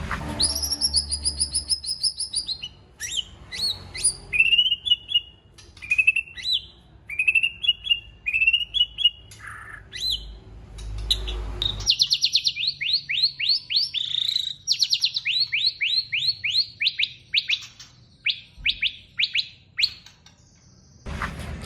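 Recorded songbird singing for masteran training, a rapid series of bright chirps, trills and whistled phrases in dense bursts, fairly close and continuous, with a short pause near the middle.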